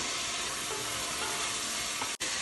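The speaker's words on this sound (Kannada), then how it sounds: "ನಂತರ ನಾನು ಇದಕ್ಕೆ ಟೊಮೊಟೊ ಹಾಕ್ತಾ ಇದ್ದೀನಿ" Chopped tomato hits a hot AMC cookware pan while cooking mushroom biryani, giving a steady, close, even sizzle throughout with a brief dropout near the end.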